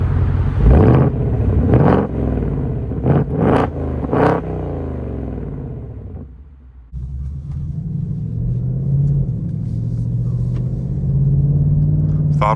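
A 2026 Ford Mustang Dark Horse V8 engine and exhaust on the road, a loud close rumble that revs hard through several throttle blips, dips briefly as it shifts, then settles into a steady droning cruise.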